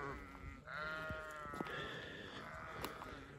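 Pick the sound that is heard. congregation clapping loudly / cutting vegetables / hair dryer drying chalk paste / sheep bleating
sheep bleating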